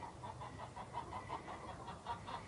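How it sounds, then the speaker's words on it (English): Chickens cluck in a garden coop near a cow pen on a farm, a steady run of soft, slightly distant clucks and low calls over faint outdoor background, with no voices. "there's some chickens in the cow pen over there digging around."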